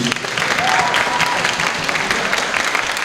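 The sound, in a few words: applause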